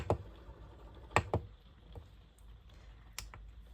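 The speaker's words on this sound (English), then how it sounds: "So you can turn it on and off by clicking the button." A few sharp plastic clicks from a motorhome control panel button, spaced irregularly, close by against a quiet background hum.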